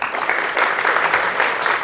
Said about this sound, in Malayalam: ഒരു ക്ലാപ്പ് കൊടുത്തരെ.